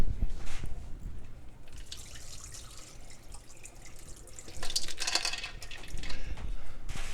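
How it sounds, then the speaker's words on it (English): Brined cucumbers for dill pickles are drained in a home kitchen, giving soft, continuous trickling and dripping water with faint splashes and clinks, moderately quiet and with no voices. "I just need to drain them."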